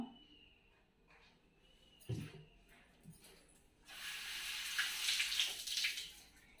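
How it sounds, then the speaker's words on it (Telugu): Quiet clinks and a soft knock of a nonstick pan, then water gushes from a tap in a steady hiss for a few seconds as it is washed with dish liquid. "లిక్విడ్ వేసి క్లీన్ చేస్తున్నాను"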